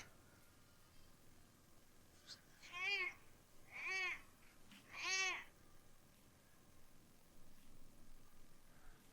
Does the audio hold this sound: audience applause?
no